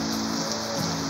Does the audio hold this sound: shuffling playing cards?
no